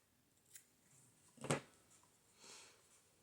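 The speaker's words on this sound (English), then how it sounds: "Let's cut it one more time." Scissors snip through beading string while a tassel is being made: one sharp, close cut in the middle, with a fainter snip before it and a soft rustle afterward, in a quiet room.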